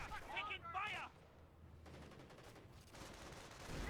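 Battlefield gunfire in Company of Heroes, a World War II strategy game, rattles in a burst of rapid shots, followed by distant rumbling and scattered combat noise. A shouted voice line comes through at the start.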